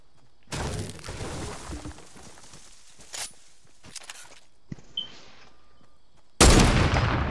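Sharp bursts of gunfire crack in a Fortnite match, a long loud volley near the start, a few isolated shots in the middle, and a heavy loud blast at the end.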